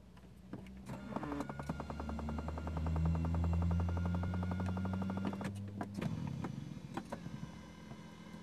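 Electric seat adjustment motor in a Mercedes-Benz A45 AMG 4matic whirring steadily inside the cabin for several seconds, rising in pitch midway and stopping abruptly, with faint clicks before and after.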